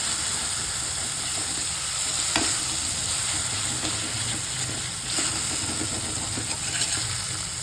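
Soaked moong dal is stirred and fried in a pan, giving a loud, steady sizzle with a steamy hiss and occasional scraping strokes of a spoon, and no voices.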